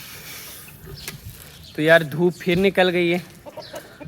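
Hens cluck on a small poultry farm, giving short repeated calls that rise loud in the middle of the stretch. Someone speaks over the start before the clucking takes over.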